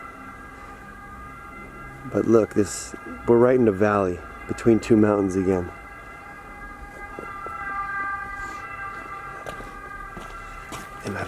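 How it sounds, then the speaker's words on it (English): Police car sirens on a city street in Bolzano, South Tyrol, Italy hold steady tones through the whole stretch. Someone talks over them in the foreground. "You can hear the police cars."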